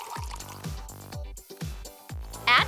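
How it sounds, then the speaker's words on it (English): Sprite glugs into an empty glass Coke bottle in a series of about five bubbly, gulping pours, each a resonant splash with rising pitch, close and fairly quiet, ending with a brighter fizzy burst. "Pour Sprite into an empty glass Coke bottle."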